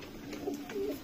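Pigeons kept in a breeder's loft coo softly, a brief low murmuring call heard faintly against quiet background noise.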